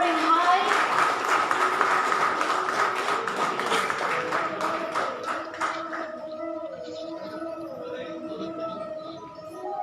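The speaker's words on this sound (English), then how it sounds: "your thunderous applause should not fade. They need to keep roaring" Applause from an audience at an inauguration event, dense at first and thinning out after a few seconds while music or tones carry on underneath.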